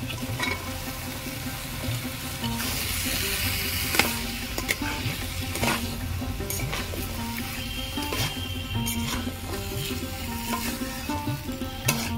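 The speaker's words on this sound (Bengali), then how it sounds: "এই গ্রেভির মধ্যে আমি আলুগুলো দিয়ে কষিয়ে নেব।" Potatoes stir-fried in a thick gravy for aloo kosha, a steady close sizzle broken by repeated spoon clatters and scrapes against the pot, with no talking.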